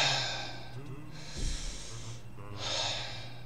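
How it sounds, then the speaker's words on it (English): Slow, deep breaths drawn in and let out twice, each a soft rushing exhale lasting about a second, close to the microphone over a steady low hum, with a brief snort-like sniff between them. "So let's take a few deep breaths."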